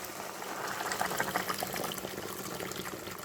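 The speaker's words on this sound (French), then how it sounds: "Je rajoute de l'eau bouillante" Boiling water poured into a couscous pot in a home kitchen, a soft continuous splashing and bubbling pour, faint and close, with no talk over it.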